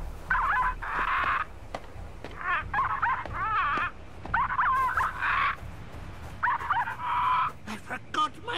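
A squawky parrot voice in the video game The Cave imitates dog barking in several harsh bursts over a steady low background hum, with electronic game-like ambience.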